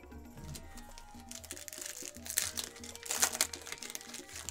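A Yu-Gi-Oh booster pack's foil wrapper is crinkled and torn open, with steady close crackling over about four seconds that grows louder near the end.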